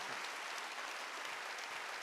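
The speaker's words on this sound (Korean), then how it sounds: "박수하세요" A church congregation at a Korean Wednesday worship service applauds, a soft, even, continuous patter of many hands that sounds distant and faint, with no talking over it.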